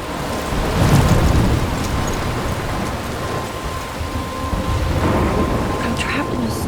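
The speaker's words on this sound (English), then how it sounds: "I'm trapped in a storm?" Thunderstorm in the video game Life is Strange, with steady heavy rain hissing throughout and deep thunder rumbles swelling and fading, no voices over the storm.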